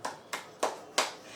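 Four sharp claps spaced about a third of a second apart, bright and close, from an audience applauding a magic trick that turns a 100-rupee note into a 500.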